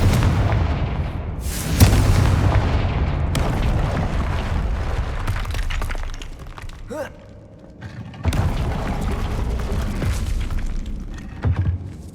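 A Confringo fire spell blasts in the Hogwarts Legacy video game, giving booming, thudding explosive bursts over a dense rumbling bed, with a short lull before another heavy burst and a couple of sharp impacts near the end.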